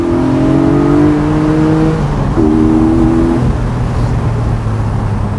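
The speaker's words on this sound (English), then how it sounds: "They're stiffer because they have to support the weight of the 4-litre 6-cylinder engine that we now have, which sounds like this." A 2020 Porsche 718 Boxster GTS with a 4-litre six-cylinder engine revs loudly and close up, its pitch climbing in two rising pulls before settling to a steady drone.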